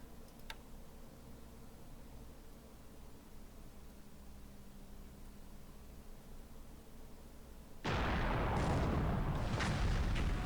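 A ship strikes a mine in the naval strategy game War in the Pacific: a faint low hum gives way to a sudden loud broadband blast that roars steadily until the end.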